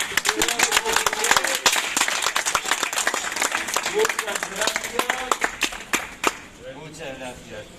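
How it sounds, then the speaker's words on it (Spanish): Audience in a civic centre hall clapping, a dense run of sharp, close hand claps lasting several seconds before thinning out, with a voice speaking faintly underneath toward the end. "Un aplauso a las dos."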